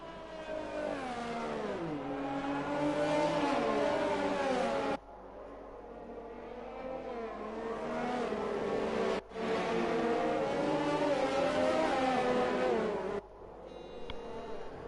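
Several race car engines rev hard and steadily in a Formula racing video game at the Japan round, the high whining notes climbing and falling in long sustained pulls that break off sharply twice before resuming, loud and close.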